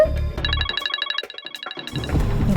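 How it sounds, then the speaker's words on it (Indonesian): A phone rings with an incoming call, its electronic ringtone sounding as a bright repeating pattern of tones that plays loudly for about a second and a half, with room noise before and after. "Mertua aku telepon."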